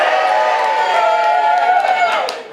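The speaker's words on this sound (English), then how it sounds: "Guys, don't cheer just yet." Comedy club audience breaking into cheers and whoops, a loud close burst of voices that holds steady and then begins to fade out.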